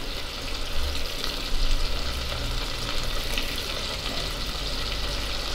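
Squid chicharrón sizzles steadily in hot oil, a dense, even crackle of frying that holds at a constant level throughout, with no voices.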